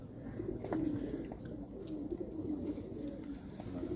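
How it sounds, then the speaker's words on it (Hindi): Grey pigeons coo softly in low, repeated throaty calls close by on a Karachi rooftop loft, with no one speaking. "सिलेटे कबूतर है बोल।"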